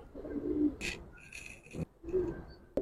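Giribaz pigeons coo in low, throaty bursts, two separate calls with scattered rustling and sharp clicks between them, fairly quiet and close.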